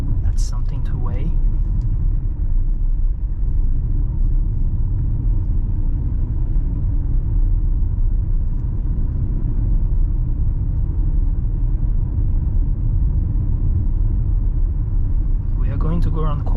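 A 2022 MG ZST VIBE 1.5L petrol SUV on the move, a steady low engine rumble and road roar filling the cabin throughout at an even level, with a few brief higher sounds near the start and end.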